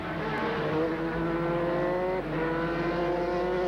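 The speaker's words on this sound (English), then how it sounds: "The top 5 cars pull away." A pack of 1984 Formula 3 race cars pulls away with a loud, steady, high-pitched engine whine. Overlapping engine tones shift pitch slightly and continue for the whole stretch.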